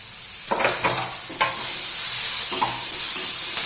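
Tomato goes into onion frying in a pan for masoor dal, with a steady sizzle and a few scraping stirs of a spoon at the start, close and fairly loud, with no talking.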